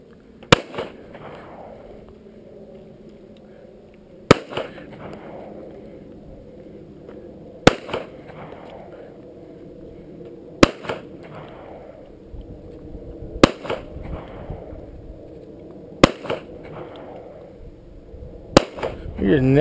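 Sharp handgun shots fired at a target outdoors, seven loud isolated cracks spaced a few seconds apart, each with a short ringing tail, with quiet background between.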